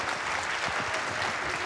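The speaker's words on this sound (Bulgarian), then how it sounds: "Аплодисменти за Слави Славов." Applause from a conference audience after a talk on Selenium testing, steady dense clapping throughout a short stretch, moderately loud and unbroken.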